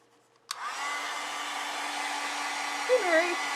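Hair dryer blowing on a watercolor landscape painting, switching on abruptly with a click and then running as a steady loud whir, its pitch wavering slightly near the end.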